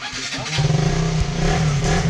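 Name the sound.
motorcycle engine starting and revving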